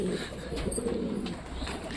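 Several pigeons cooing together while feeding on the ground, a steady low throaty murmur running through the whole stretch at close range with no talk over it.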